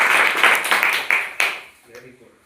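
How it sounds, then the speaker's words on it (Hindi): Classroom clapping from a group of students, a burst of quick claps lasting about a second and a half, fairly loud and close, then fading into quiet murmurs. "ताली बजाओ भाई"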